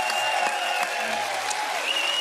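Studio audience on a French TV quiz show applauding, a steady wash of clapping from many hands at moderate loudness, with a faint voice underneath.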